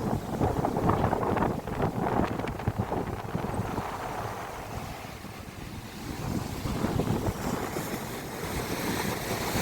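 Big waves rolling onto a Konkan beach on a rough sea after rain, a continuous low roar of surf with gusty wind buffeting the microphone, swelling and easing over several seconds.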